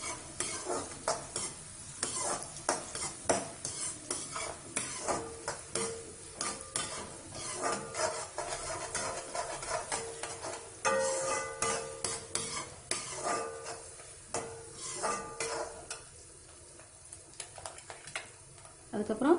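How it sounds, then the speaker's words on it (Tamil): Ingredients for vegetable semiya biryani are sautéed in a pan, a steady sizzle under frequent scraping and clinking strokes of a spatula stirring the mix. "நல்லா வதக்கிடணும்"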